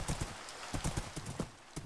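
Skeleton horse hooves clip-clopping in Minecraft, a quick run of light, evenly spaced hoof clops that repeat steadily and close up, with a faint whinny-like tone mixed in.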